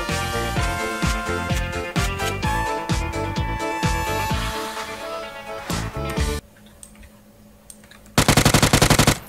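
Rapid automatic gunfire from a PUBG match, with dense bursts of shots and game sounds over several seconds, a short quieter stretch, then a final loud volley of rapid shots close up.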